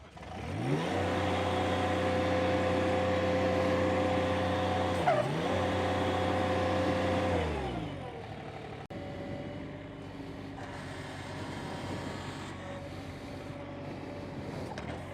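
A Kubota LX3310 compact tractor backing up while working a soil cultivator: a loud, steady engine drone that dips once, then drops to a lower idle-like rumble with faint clatter.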